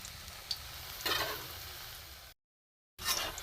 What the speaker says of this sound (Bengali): তিনটে করে ভাজতে হচ্ছে, ছোটো কড়া আমার।